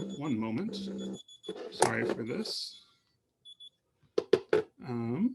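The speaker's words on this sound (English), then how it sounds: "and that's my alarm." An alarm clock goes off during a spoken lecture, its thin high beeps running mostly under the speaker's voice, with a brief pair of faint beeps heard in a quiet pause.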